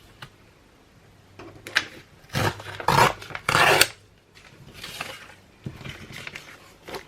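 Paper is trimmed along its width for a junk journal, with a few dry scraping and tearing strokes, a louder cluster in the middle and fainter rasps after, close up with no talk.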